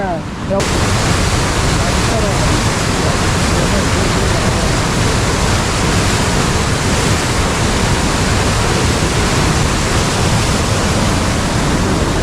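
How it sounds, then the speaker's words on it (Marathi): Heavy floodwater rushes after a sudden downpour in Konkan, a loud, continuous broadband roar like a waterfall or surf that fills the whole clip without pause. "पाणी बघा पाणी गेलं आहे"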